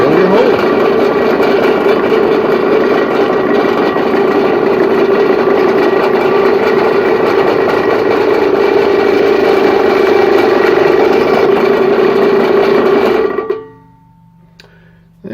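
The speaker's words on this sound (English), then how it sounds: "And you just drill your hole." A steady, loud motor whine of a drill boring a hole in clamped metal, running continuously for about thirteen seconds, then abruptly stopping into near silence.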